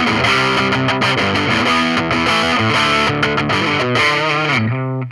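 Loud distorted electric guitar plays a fast, driving riff with heavy crunch, then stops abruptly at the end.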